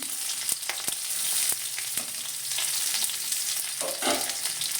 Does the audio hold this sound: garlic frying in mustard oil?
yes